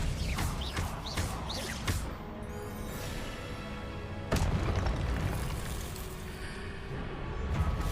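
Repeated booming blasts from the Confringo exploding curse in the video game Hogwarts Legacy, loud bursts with whooshes, the biggest hitting midway, under a continuous game soundscape and no talk.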